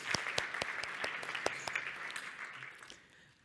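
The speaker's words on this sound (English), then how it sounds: "I think we should give Poppy a round of applause" An audience at a Dentsu technology event claps for a speaker, a dense burst of applause that gradually fades out toward the end.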